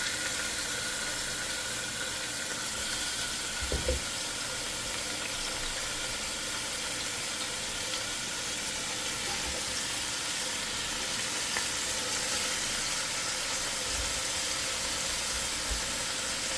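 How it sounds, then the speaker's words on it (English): Beef chunks sear in a hot pan for sancocho, giving a steady, close, even sizzle and hiss that holds for the whole stretch with no voices. "So we're going to go ahead and get this searing on all four corners"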